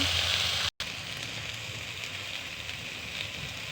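Eggplant frying in a pan gives a steady, close hiss and sizzle of hot oil, with a brief cut in the sound early on.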